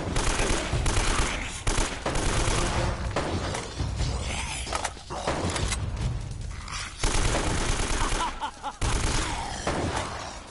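Game gunfire in Uncharted: Remastered, shotgun blasts and other weapons crackling in dense, continuous bursts across the scene, loud and close with mechanical clatter between shots.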